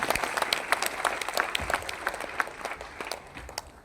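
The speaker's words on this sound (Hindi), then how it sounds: "एक जोरदार तालियां उनके लिए होनी चाहिए, please give a big round of applause." Audience applause for a guest director from Lucknow and Kanpur at a business event, a moderately quiet crowd clapping with irregular, overlapping hand claps that continue steadily and thin slightly toward the end.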